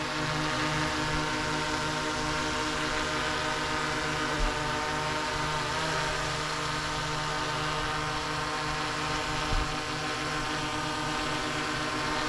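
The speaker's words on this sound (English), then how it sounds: "Also a nice quiet drone." A DJI Mavic 3 drone flying close by gives a continuous, steady, high-pitched whirring whine of spinning propellers that holds constant and fairly loud throughout, with no talking.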